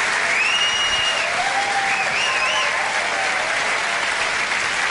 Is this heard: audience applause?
yes